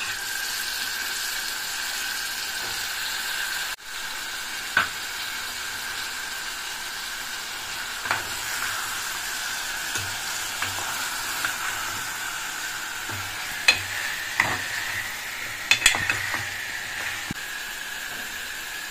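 Drumstick pieces fry in a pan with ginger-garlic paste for an egg masala curry, giving a steady close sizzling hiss with scattered sharp pops and crackles and no talking.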